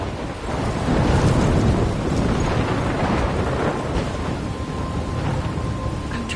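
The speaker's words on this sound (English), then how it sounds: "I'm trapped in a storm?" A thunderstorm in the video game Life is Strange: a dense, steady roar of wind and rain with rumbling low-end swells, loud and continuous throughout, with no talking.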